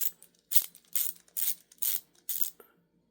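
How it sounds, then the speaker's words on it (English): An Atuman ratcheting bit and socket driver with a 1/4-inch socket driver being assembled: six crisp, close ratchet-clicking bursts in a quick, even rhythm, each followed by brief quiet, with no talk. "That's just your 1/4-inch socket driver. I'll set that in there."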